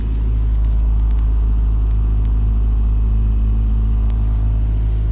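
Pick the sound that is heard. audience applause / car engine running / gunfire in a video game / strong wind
car engine running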